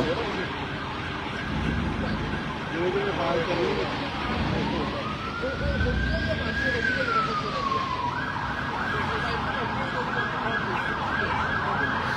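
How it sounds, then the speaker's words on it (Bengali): Police car and ambulance sirens wail over steady traffic noise at a road accident in London, one rising and falling in a long sweep while another holds a steady pitch, fairly close and loud. "এখন বেশ কিছু পুলিশের গাড়ি এসেছে এবং অ্যাম্বুলেন্স এসেছে।"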